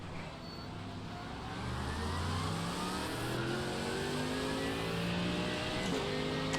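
Many race car engines revving and accelerating together at a chaotic race start in a sim racing game, overlapping rising engine whines that build in loudness and hold as a dense roar.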